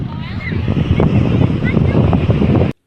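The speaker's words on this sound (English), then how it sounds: "You can hear the waves rolling in the background." Waves rolling onto the sand at Aberdeen Beach with wind buffeting the microphone, a continuous close rushing wash without distinct breaks, ending abruptly.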